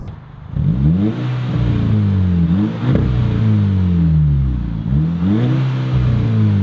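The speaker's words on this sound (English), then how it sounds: "From the outside, however, the Borla S-Type exhaust sounds phenomenal." A Volkswagen GTI fitted with a Borla S-Type exhaust, heard from outside as it revs repeatedly, the deep exhaust note rising and falling in several loud close blips over a steady idle, with no talking.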